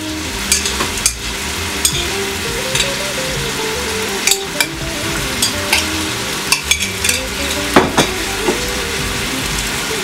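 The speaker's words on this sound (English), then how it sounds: "So now I'm going to add the noodles and the soy sauce" Pancit noodles stir-fried with soy sauce in a pan, a loud continuous sizzle broken by repeated scraping and clanking of utensils against the pan, close up with no talking.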